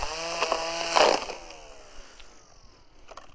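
Small extra-light 18V battery grass trimmer cutting around tree bases, a high whining motor with harmonic tones that flares loudly around one second, then fades and trails off.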